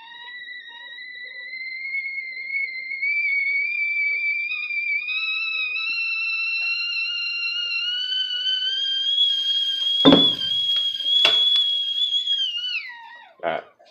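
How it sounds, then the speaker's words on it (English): A whistling tea kettle boiling water, a steady shrill two-tone whistle slowly rising in pitch, then breaking off with a few clunks as it is taken off the heat. "Just want to show a whistling tea kettle."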